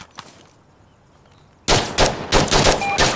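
An A-10 strafing gun run in the game Insurgency Sandstorm: after a quiet lead-in, a sudden loud roaring burst of rapid cannon fire erupts with crackling impacts that pulse on to the end.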